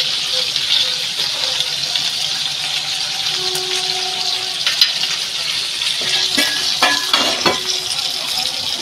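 Onions stir and fry in a pan in a home kitchen, a soft continuous sizzle with a few scraping clinks of the spoon near the end, no one talking.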